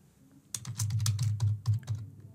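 Computer keyboard typing while a thank-you message is written, a quick irregular run of close clicks and taps starting after a brief pause, with no talk.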